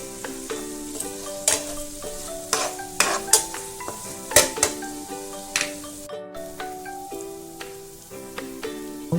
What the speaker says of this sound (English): Add few curry leaves to it.